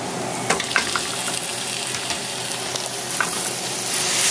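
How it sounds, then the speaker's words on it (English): Ground pork hits a hot pan on medium-high heat and sizzles steadily, a bright continuous crackle with a few spatula taps, and no talking. "let's go ahead and add our pork."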